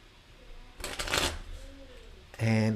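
Deck of playing cards shuffled up close, a quick riffling burst followed by a second short shuffle, with someone talking around it.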